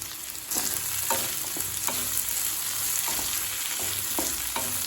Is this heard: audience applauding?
no